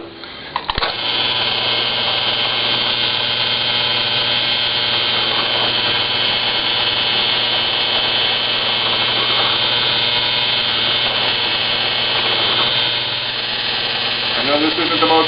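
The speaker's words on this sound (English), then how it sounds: "I've got the drill press set so it won't drill too deep." Drill press drilling holes in a Lexan RC rock crawler chassis, a steady motor whine with a low hum running continuously after a brief start, loud and close, easing slightly near the end.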